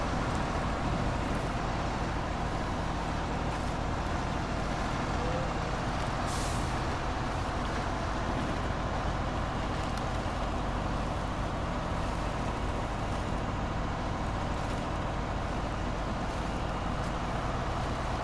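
A truck in Snowrunner hauls a trailer on street wheels with the differential lock engaged, its engine giving a loud, dense, unbroken rumble that holds steady throughout.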